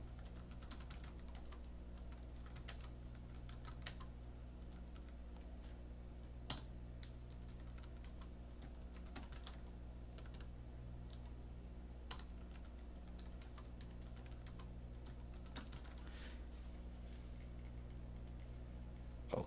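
Steady keyboard typing while entering slide text in a PowerPoint presentation: a continuous run of light, quick key clicks at an even pace with occasional louder taps, close and clear with no voices.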